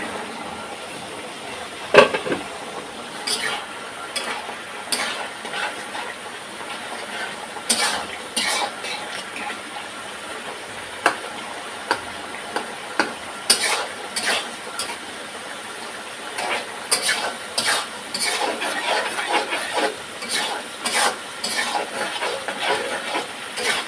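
Fish roe frying with vegetables in a pan, a steady sizzling hiss broken by frequent scrapes and clicks of a utensil stirring against the pan, close and continuous without talk.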